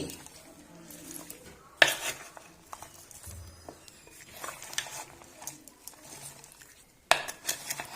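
A spoon clinks and scrapes against a bowl while mixed vegetable pickle is mixed with red chili powder and turmeric, giving intermittent stirring and sharp clinks.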